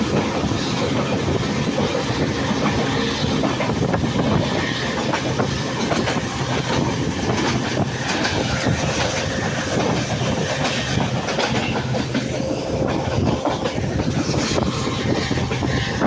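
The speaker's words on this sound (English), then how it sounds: "Guwahati Intercity Express." The Guwahati Intercity Express running on rails in Upper Assam, a steady loud rumble with rhythmic clickety-clack of wheels over rail joints, heard from on board throughout with no talk.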